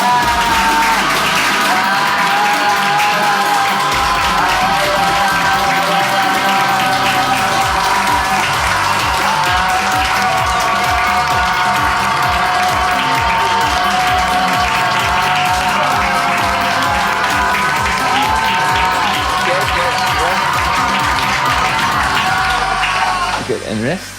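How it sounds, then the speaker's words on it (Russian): A group of people scream loudly and continuously at full volume during a rage-release exercise, a dense, unbroken wall of shouting voices lasting more than twenty seconds before it cuts off. "do it as fast as you can and scream"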